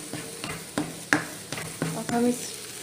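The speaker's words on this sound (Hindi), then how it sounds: "ये अब अच्छे से भुन गया है और इसने पेंदा भी छोड़ दिया है।" Semolina roasting in a pan for suji halwa, stirred with a spoon: irregular scraping strokes over a faint sizzle, close by, with no talking.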